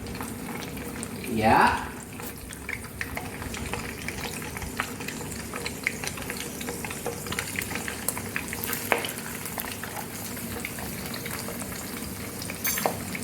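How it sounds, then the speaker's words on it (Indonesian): Spice paste fries in hot oil in a wok, a steady close crackling sizzle with a louder splash as it goes in near the start and a short spoken word. "Kita goreng sampai berubah warna"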